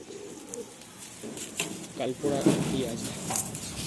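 A pigeon coos in soft, rolling bursts, close by, with a voice talking over part of it.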